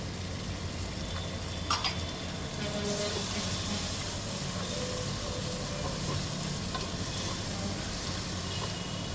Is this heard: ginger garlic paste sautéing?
yes